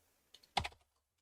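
A few quick keystrokes on a computer keyboard, close and quiet: a light tap followed by a slightly louder cluster of clicks, then silence.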